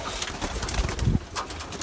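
Hungry swallow chicks and pigeons call from a nest in a grandfather's bird loft, giving short, faint chirps and coos that come and go over a steady background hum.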